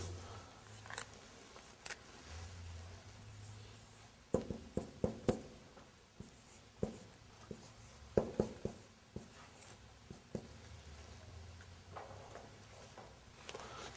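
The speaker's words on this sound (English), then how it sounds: "Now I write another example, brother." Someone writes out an example during a lesson: faint, scattered taps and scratching strokes in a quiet room, bunched in short quick clusters with pauses between.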